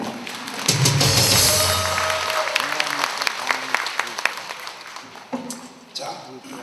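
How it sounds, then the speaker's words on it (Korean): An audience at an outdoor patriotic rally in Atlanta applauds, a swell of crowd clapping that rises sharply and then thins into scattered claps, with voices talking over it. "박수하겠습니다."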